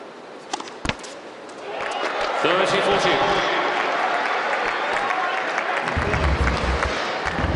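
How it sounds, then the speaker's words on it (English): A tennis crowd at a match claps and cheers after a point, starting with a few sharp thuds before the applause swells into a dense, sustained roar that carries to the end. "each and every point that Federer and the Aces win today will be greeted by a loud cheer"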